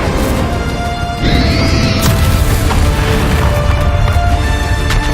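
Incendio fire spell cast in Hogwarts Legacy bursts with a loud whooshing boom and crackle, a rising swell near the start then a sharp impact, sustained roaring effects after, no talk heard.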